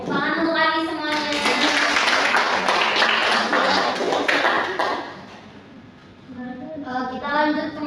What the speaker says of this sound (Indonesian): Tepuk tangan untuk kami semuanya.